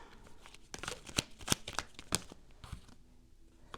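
Quiet, close-up riffling and slapping of tarot cards being shuffled, several crisp bursts in quick irregular succession, then fading.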